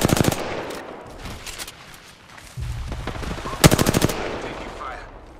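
Automatic weapon fire in the battle royale game Apex Legends, quick staccato bursts at the start and a louder rattling volley near the end, with quieter game ambience and movement between.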